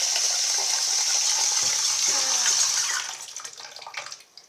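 Water gushes from an outdoor tap in a backyard, a strong steady hiss that stops after about three seconds, followed by a few light splashes and drips.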